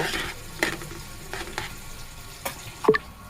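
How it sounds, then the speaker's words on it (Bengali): Lentil bharta with coriander leaves being stirred in a pan on the stove, a soft frying sizzle under a few scraping and clinking utensil strokes close by. "এটা দিয়েও কিছুক্ষণ নাড়াচাড়া করে নেব"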